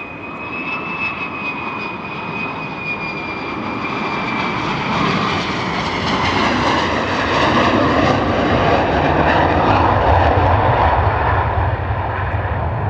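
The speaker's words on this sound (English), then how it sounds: "Nice big wheelie there from that F-35" A US Air Force F-35 fighter jet roars on takeoff at RAF Lakenheath, a loud sustained engine rumble with a high whine, growing steadily louder and fuller across the whole stretch.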